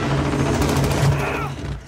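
Rapid gunfire in Call of Duty Modern Warfare Search and Destroy and Hardpoint matches, a dense automatic burst that runs almost continuously for about two seconds before it trails off.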